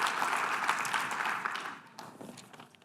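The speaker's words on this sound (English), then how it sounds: "applause for yourselves for being long-lasting" Convention delegates applaud themselves in a hall, a steady wash of many hands clapping that fades gradually over a few seconds.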